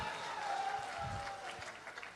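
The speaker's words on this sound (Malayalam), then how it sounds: "എല്ലാവരും ആത്മാർത്ഥമായിട്ടൊന്ന് കൈയടിച്ചേ" Audience clapping at a live Malayalam comedy stage show, a steady wash of applause lasting a couple of seconds, moderately loud with some crowd noise mixed in.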